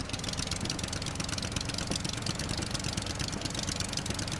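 A boat engine drones steadily in the survival game Stranded Deep, a constant loud churning rumble with no breaks and no speech.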